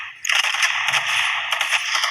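Sustained automatic fire from an AK-47 in a video game rattles loud and continuous, with a short break midway before the burst resumes.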